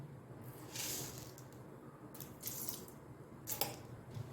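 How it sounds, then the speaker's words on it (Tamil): Faint, scattered crackling and popping of mustard seeds spluttering in hot oil in a few short bursts, with quiet gaps between. "இப்போது கடுகு நல்லா வெடிச்சிருச்சு"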